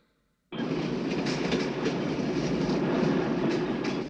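A passenger train runs on rails, its dense rumble and clatter starting abruptly after a brief silence and holding loud and steady, with no voices.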